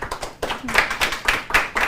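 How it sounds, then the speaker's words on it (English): A small audience gives a brief round of applause after an academic talk at a seminar series, a loose patter of claps of moderate loudness heard on its own. "I want to give Kulash a round of applause for a great talk"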